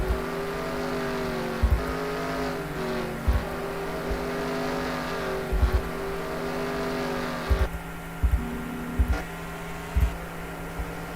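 Race cars run laps on the Sonoma road course, with a steady layered engine drone broken by repeated short low thumps, the pack sounding fairly distant with no talk.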